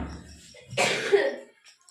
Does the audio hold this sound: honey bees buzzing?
no